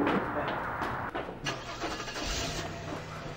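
A car engine cranks and catches during a theft, then settles into a running idle close by, loud and steady.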